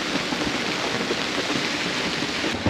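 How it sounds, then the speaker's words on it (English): Steady heavy rain pours onto a sailboat anchored at Tikehau atoll in the Tuamotus, a dense even hiss of drops drumming on the deck and water with no breaks, close and constant throughout. "Boy, it's raining."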